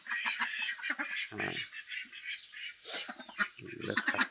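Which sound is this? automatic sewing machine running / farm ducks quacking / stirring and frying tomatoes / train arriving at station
farm ducks quacking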